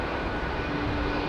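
An ASL Belgium freighter aircraft passes overhead heading east near London Heathrow, a steady broadband engine roar filling the short stretch at constant loudness.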